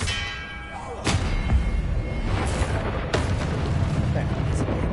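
Confringo and Expelliarmus spells fired in the Hogwarts Legacy video game, producing two loud booming blasts about two seconds apart over a continuous rumbling game soundscape.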